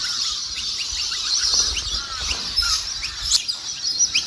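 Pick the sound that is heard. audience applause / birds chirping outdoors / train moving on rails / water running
birds chirping outdoors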